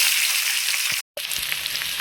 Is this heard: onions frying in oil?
yes